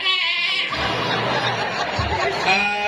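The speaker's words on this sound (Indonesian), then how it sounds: "Ada cik kambing ya." A goat bleats close by in a long wavering call, then a second shorter bleat follows near the end, over a steady noisy background.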